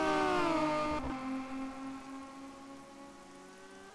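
Rain in the racing video game rFactor 2 at Loch Drummond, a soft hiss over tonal engine drones that fade after a second, ending with a sudden brief thump.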